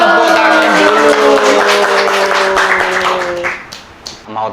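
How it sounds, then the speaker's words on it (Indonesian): Audience clapping at a school show held at a vocational high school, a dense burst of applause mixed with ringing music tones that fades out toward the end. "Tepuk tangan dulu."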